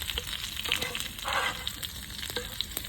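Garlic fries golden in a pan with a continuous loud, close sizzle and crackle and occasional stirring scrapes, no talking.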